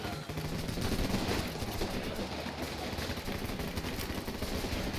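Rapid rifle fire from the player's weapon in the video game Running With Rifles, a continuous dense stream of shots with other gunfire mixed in at moderate level and no talking.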